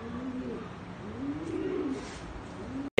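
A racing pigeon coos inside a loft, soft rolling low coos repeating close by for a few seconds before a brief cut and a sudden louder burst at the end.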